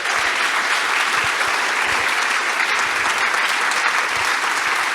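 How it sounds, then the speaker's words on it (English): Sustained audience applause at the closing of a plenary session at a consciousness science conference in Barcelona, a dense, steady wash of many hands clapping at even loudness throughout, with no talking over it. "I'd like to ask for a final round of applause for everyone"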